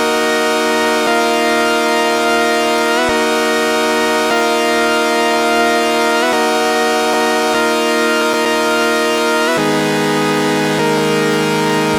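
Pitch-shifted main synth lead recreating a song, a loud, dense, siren-like buzzing tone stepping between held notes every second or two, continuous without voices.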